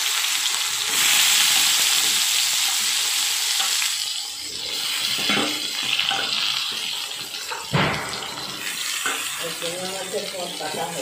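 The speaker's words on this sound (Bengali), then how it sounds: "এবার কেটে রাখা বেগুনগুলো দিয়ে ভাজা করে নিচ্ছি।" Eggplant pieces coated in salt and turmeric fry in mustard oil in a wok, a loud continuous sizzle that fades and surges as they are stirred, with scraping and a voice speaking toward the end.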